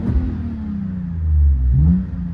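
A Lexus GS300 VVTi VIP cruiser with a modified throaty exhaust revs up close by, a loud, deep rumbling burble that swells once over about two seconds.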